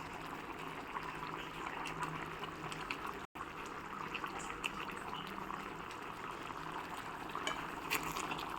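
Egg curry gravy of water, oil and spices with fried eggs simmering in a pot, giving a steady, soft bubbling hiss at close range throughout, with no voices.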